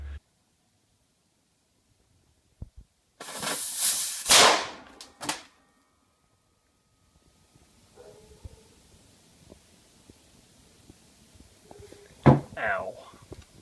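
A sharp, loud firecracker bang bursts out after a moment of quiet, followed by a crackling burst and a second pop, with faint rumbling and a later sharp crack.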